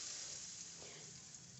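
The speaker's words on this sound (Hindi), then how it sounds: "अब हमें ये छौंका या बघार चटनी के ऊपर डाल देते हैं।" Hot tempering poured over tomato chutney gives a soft, steady sizzle, faint and hissing, with no talk over it.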